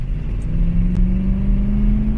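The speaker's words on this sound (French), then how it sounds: "Je vais accélérer et mettre les quatre corps en route" The V8 of a 1977 Cadillac Fleetwood limousine rumbles loudly as it accelerates, giving a deep, steady engine drone with a slowly rising tone, heard close up with no talk over it.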